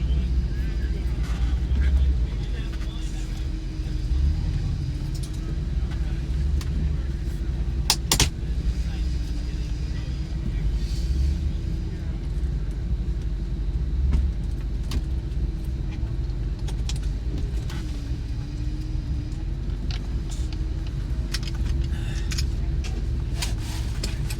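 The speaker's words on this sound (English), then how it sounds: "Now she's sputtering at idle." A car engine idles roughly after new exhaust work, its low steady rumble wavering unevenly as it sputters, close and continuous with no one talking.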